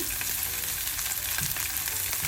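Onion and garlic sautéing in oil in a pan for a tin fish curry, a steady close crackling sizzle with faint stirring, no talk.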